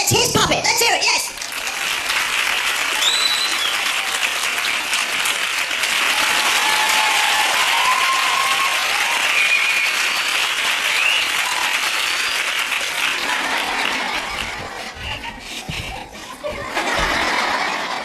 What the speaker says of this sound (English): A round of applause, please, as he gets his puppet